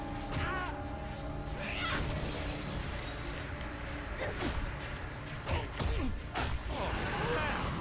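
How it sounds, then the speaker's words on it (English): A cat meows in the Buffy the Vampire Slayer Xbox video game, several short cries amid game effects, with glass shattering and whooshes in the busy mix. "Here's the cat."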